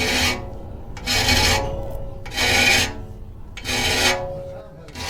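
A hand file rasps across saw teeth in four slow, even strokes, each a loud, gritty scrape separated by short pauses.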